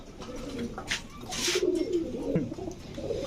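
Pigeons cooing nearby, low throaty warbling coos over a steady background hum, with some faint chirps and no talk.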